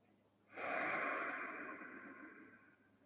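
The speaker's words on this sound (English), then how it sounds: "all moving as you breathe in and breathe out" A single slow, close breath rises sharply and then eases off over a couple of seconds, steady and airy, taken during a beginner's tai chi and qigong breathing exercise.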